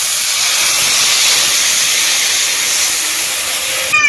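Water poured into a hot pan of curry with turmeric, chili, mustard paste and cumin paste gives off a loud, continuous steaming hiss, close by and steady, ending with a brief clatter.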